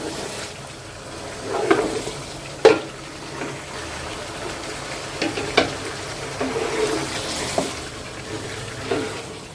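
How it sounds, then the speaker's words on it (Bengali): Chicken pieces fry in a cooked-down spice masala, a quiet uneven sizzle broken by repeated scraping and stirring knocks against the pan, close by with faint background noise. "মশলা কষানো হয়ে গেছে আমি চিকেনটা দিয়ে দিলাম"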